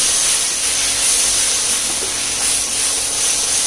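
A loud, steady sizzle and hiss fills the scene as spices and chilli powder fry hard in a hot pan for biryani, continuous without pauses.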